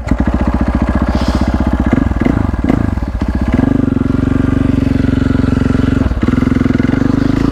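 A KTM supermoto with a modified setup idles and revs close by, its single-cylinder engine giving a steady, loud, rapid thumping pulse with a few throttle blips and shifts in pitch, alone without talk.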